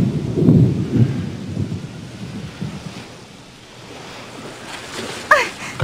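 Rumbling thunder rolls over a stormy sea in an anime scene, with heavy rain and surging waves beneath, a loud low boom at first, fading, then a sharp crack near the end.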